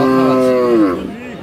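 A Friesian cow with her calf lows at a busy cattle market, one long, loud, drawn-out moo that tails off into quieter bellowing near the end, with faint crowd noise behind.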